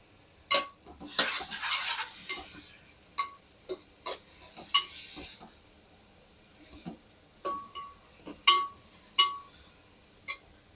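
Chopped capsicum, carrot and other vegetables go into a pan for pav bhaji, giving a run of sharp clinks and scrapes from a spoon against the pan. A brief sizzling burst comes near the start and scattered strikes follow, close by with no talking.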